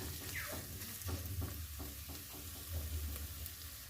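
Spice paste frying in oil for a fish chorchori, a steady close sizzle punctuated by rhythmic spatula stirring strokes scraping the pan.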